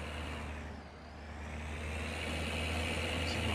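Steady, droning tractor engine of a Case Maxxum 5150 in the Farming Simulator 19 game, a continuous broadband rumble that dips slightly then holds even and loud throughout, with no talk.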